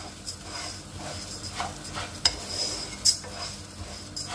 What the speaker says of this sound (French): je vais ajouter le riz dans l'oignon que j'ai fait risoler